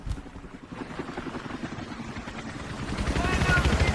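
A video game helicopter's chopping rotor throbs steadily and grows louder toward the end, with voices talking over it.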